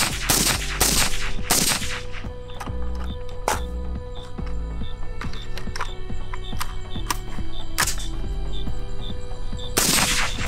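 Rapid strings of suppressed rifle fire from an M4 with a Griffin Armament SDK suppressor, magazine dumps of sharp, closely spaced shots in bursts over a steady background hum.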